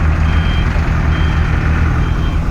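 Truck backing up with steady repeating reversing beeps, loud and close over a continuous low engine rumble, the rhythm holding evenly throughout.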